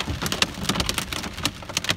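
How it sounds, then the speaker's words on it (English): Pea-sized hail of a hailstorm falls in town, a dense, continuous patter of sharp irregular impacts, close and fairly loud, with no talking. "hail coming down."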